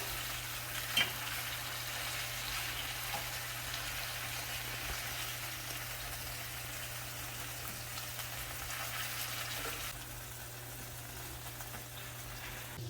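Chicken breasts fry and brown in a hot pan, a steady close sizzle running throughout with an occasional soft clunk as a piece is turned, over a low hum and no talk.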